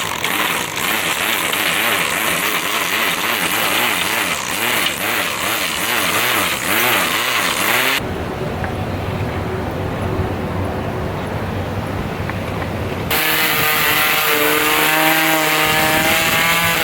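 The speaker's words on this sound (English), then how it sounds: "I love using the weed whacker." A weed whacker edging an overgrown sidewalk gives off a loud, close, buzzing engine whine that wavers in pitch and drops briefly before surging back.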